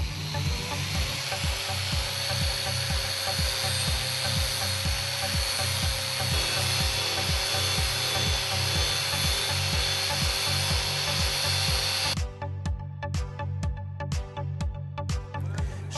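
Big Buff tool fitted with a Quick Step disc grinding down a weld at 7,000 RPM for a brushed #4 sanitary finish on a flat surface: a loud, steady, close abrasive whir with rhythmic rubbing strokes that changes tone near the end.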